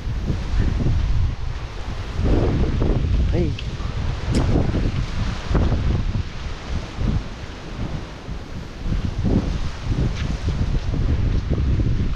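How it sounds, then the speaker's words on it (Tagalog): Strong typhoon wind buffets a farm with mango and banana trees, roaring steadily with gusts and rustling, loud and close with heavy microphone rumble; a voice calls out briefly. "Sobrang lakas dito ng hangin dito."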